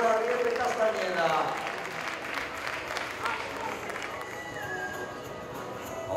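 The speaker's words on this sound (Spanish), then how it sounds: "el aplauso para la capitana del Perimer, Aurora Ariete Castañeda." Spectators applauding a finishing runner at a veterans' women's 5000 m championship race, scattered clapping mixed with crowd noise and footsteps, moderately distant, with a voice talking over it.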